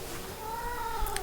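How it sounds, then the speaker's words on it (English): A house cat gives a drawn-out, rising-and-falling meow, faint and close, over a noisy room background. "he keeps talking when I start talking because he thinks that he's having a conversation with me"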